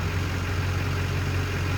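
A Duramax LB7 diesel pickup engine idles smoothly and steadily at close range, a constant low rumble with no voices over it.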